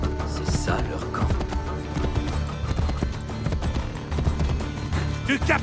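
Horses gallop in the video game Assassin's Creed Brotherhood, a rapid, continuous clatter of hoofbeats close by, mixed with other game sounds.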